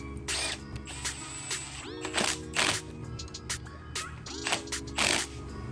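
A Kawasaki Z900 motorcycle's brake master cylinder is refitted on the right side of the handlebar, giving scattered close mechanical clicks and ratcheting taps in short bursts.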